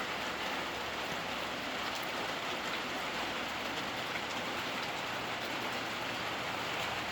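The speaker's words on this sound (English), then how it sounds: "Gentle rain this morning." Gentle morning rain falls in a steady, even hiss of countless drops pattering on surfaces, unbroken and consistent throughout with no voices.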